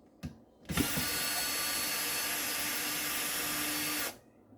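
Power tool loosening the screws on an A/D/S M280 car amplifier, a brief buzz and then a steady whirring drive lasting about three seconds, close and loud, before it stops.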